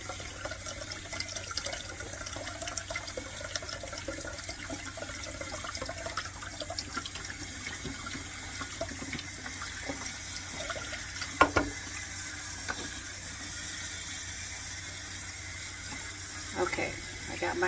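Hot water pours steadily from a kitchen tap, a constant hiss-like rush of moderate loudness with small splashes and clinks over the flow, and no voices.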